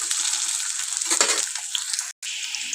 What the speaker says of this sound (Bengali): তো আমরা এরকমভাবে আলুটাকে খুব ভালো করে ভেজে নেব লাল লাল করে